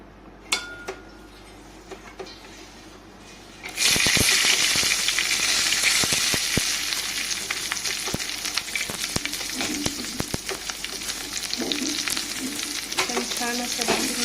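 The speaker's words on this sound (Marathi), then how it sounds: "तर चला आता हे भाजून घेऊया आपण तव्यावरती" Green chilli, garlic and ginger roast on a hot tava beside toasted coconut: after a quiet start with a few clinks, a loud sudden sizzle bursts in and continues steadily, dotted with sharp ticks and scrapes of stirring.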